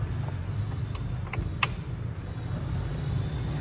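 A used, older low-value car engine idles with a steady low rumble, close and continuous, with a few faint clicks and knocks on top and no talking.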